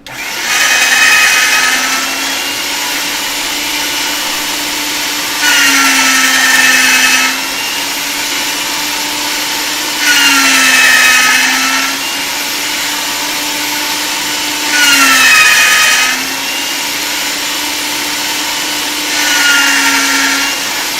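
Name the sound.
pasta machine rolling polymer clay on thicker setting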